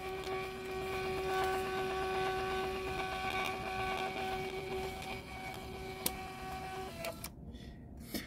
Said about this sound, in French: ça va m'imprimer mon petit ticket